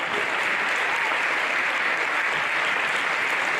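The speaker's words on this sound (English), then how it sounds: "let's see both teams a round of applause for well-fought game" Crowd applause in a gym for both teams after a girls' high school basketball game, a dense, even roar of clapping from many hands, sustained without pause and without talk.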